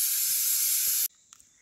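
A pressure cooker whistle releases a loud, steady hiss of steam for about a second, then cuts off abruptly, leaving a quiet room with a faint clink.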